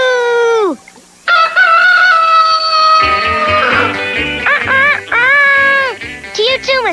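Animated characters loudly voice a rooster's cock-a-doodle-doo, with several drawn-out, bending crowing calls one after another, close and bright, imitating the bird rather than a real rooster.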